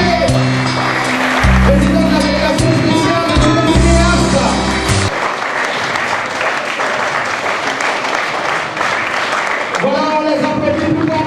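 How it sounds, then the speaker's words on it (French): Music with a sung or tonal melody plays first, then gives way to loud, sustained crowd applause filling the rest, with voices mixed in at a public event. "on les applaudit plus fort que ça"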